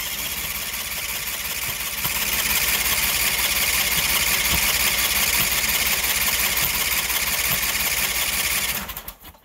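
Sears Suburban loader with a 20HP V-twin engine on a winter cold start, running as a steady, close, loud idle with a rapid mechanical clatter and vibration before cutting out at the end.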